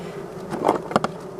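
Honeybees buzz close by at a hive being fed syrup, a steady drone with a few louder passes as individual bees fly near.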